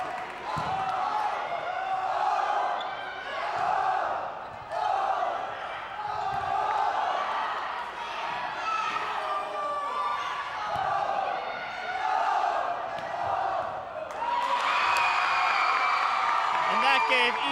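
Indoor crowd at a high school volleyball match between Longmeadow and East Longmeadow cheering and shouting in swelling waves, with ball thuds and an announcer talking over the noise, rising to a loud burst near the end.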